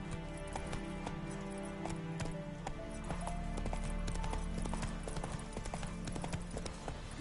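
A horse gallops in The Witcher 3 video game, with steady rhythmic clip-clop hoofbeats close by over a continuous ambient bed.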